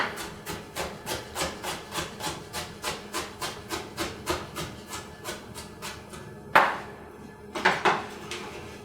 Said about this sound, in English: Really quick, you're just going to dice it up really small, around the same size.